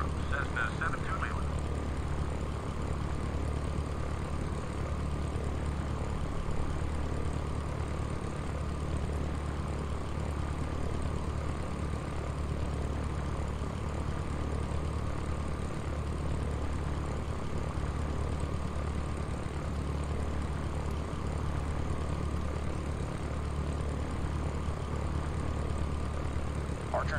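A Cessna's propeller engine drones at a steady, constant level throughout a flight simulator game, forming a continuous background hum with no break.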